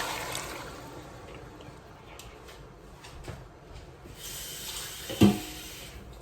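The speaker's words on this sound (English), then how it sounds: "we're just gonna add a little bit of water to this mixture" Water trickles and splashes into a cooking pot of curry goat mixture against a quiet kitchen background, with a brief louder splash near the end.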